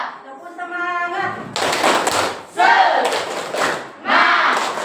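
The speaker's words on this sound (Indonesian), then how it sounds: "Tepuk semangat." A school class does a rhythmic spirit clap, chanting together in unison between sharp bursts of patterned group clapping and slaps, loud and close.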